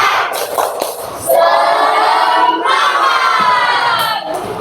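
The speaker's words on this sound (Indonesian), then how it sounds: "mari kita tepuk semangat dulu" Indonesian school class doing the rhythmic tepuk semangat clapping chant, loud group voices chanting together with sharp claps in an energetic burst, close and lively.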